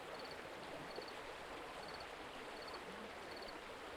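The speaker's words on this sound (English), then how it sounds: "It's the town river, full of calm, warm water, and killer piranhas." A calm town river in the Darkestville Castle video game flows in a steady, soft wash of running water, with faint, regularly repeating high chirps over it and no voices.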